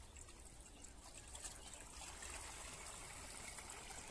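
Urea and Phonska fertilizer are stirred into water, making a continuous soft trickling and swishing of liquid that stays fairly even and faint, with no talking over it.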